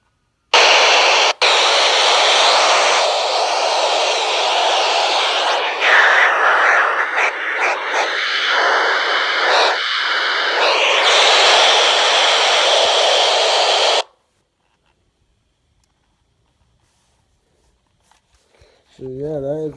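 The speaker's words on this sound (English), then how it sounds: "So yeah, that is my train scanner." Train radio scanner hissing loud continuous static for about fourteen seconds, the texture shifting partway through, then cutting off to near silence before a voice begins at the end.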